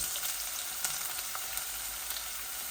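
Onions sizzle in hot oil in a pan, a loud, steady frying hiss with small crackles and pops throughout, close and continuous with no talk.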